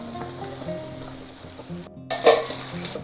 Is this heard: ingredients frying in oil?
yes